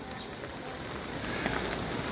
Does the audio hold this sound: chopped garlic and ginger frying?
no